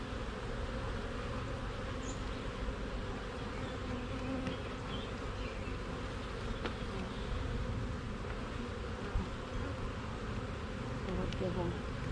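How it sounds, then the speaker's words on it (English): Honey bees buzz around a hive frame in a continuous low drone, close and steady throughout, with faint incidental handling noises and no talk. "a fair amount of bees there"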